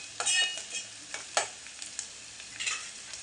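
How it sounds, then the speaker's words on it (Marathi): Masala for a fish curry fries in a pan, with a soft sizzle under scraping stirs that come in several short, close bursts, and no talking. "व्यवस्थित मिक्स करून घ्यायचं लालसर होईपर्यंत परतून घ्यायचं"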